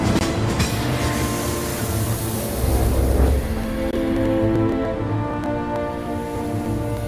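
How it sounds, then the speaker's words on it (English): A train from the Final Fantasy VII Remake video game rumbles along on its way into the Sector 1 reactor, rattling loudly and continuously with a low mechanical clatter and no voices. "the iconic start to Final Fantasy VII the train into the Sector 1 reactor"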